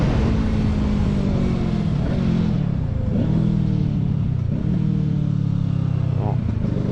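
A Kawasaki Ninja 650 40th Anniversary Edition motorcycle under braking: a steady engine drone falls in pitch as it slows, with engine tone dipping and recovering several times amid constant wind rush, and a voice speaking over it throughout.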